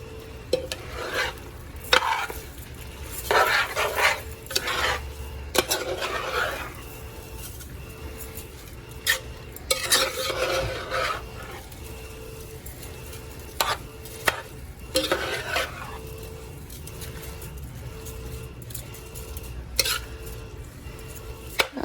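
Rice is stirred into a big pot of jambalaya in repeated bursts of scraping and grainy shuffling, near and fairly loud, with a faint sizzle between the strokes.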